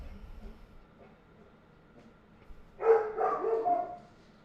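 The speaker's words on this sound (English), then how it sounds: "Goodness, doggy." A dog lets out a short cluster of barks after a quiet stretch. The barks are moderately loud and fairly close, and they last about a second before fading.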